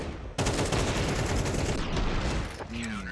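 Gunfire in the Counter-Strike video game from an AWP sniper rifle and Desert Eagle pistol, a loud burst of rapid shots filling most of the short clip under a caster's excited commentary.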